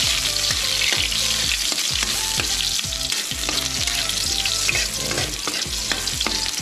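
Garlic sautéing in a hot pan, a steady loud sizzle with repeated scraping stirs of a utensil throughout, close up and with no voices.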